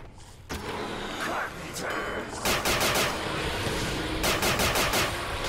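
Gunfire in the Black Ops 2 nZombies game mode played in Garry's Mod, rapid bursts of loud shots and weapon clatter over dense game noise, with repeated shots clustered near the end.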